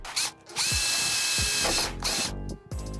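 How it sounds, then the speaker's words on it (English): A power drill with a small pilot bit bores holes in the body panel of a 1992 Mazda Miata, three close, loud bursts of high whine separated by brief pauses and clicks. "You're gonna use a pilot size drill bit, so one significantly smaller than your finish hole size."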